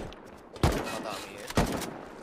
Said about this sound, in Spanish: Y ahí me están disparando